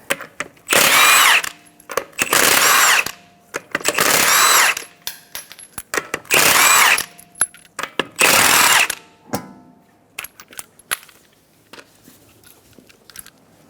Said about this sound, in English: Remove the 5 21mm sockets.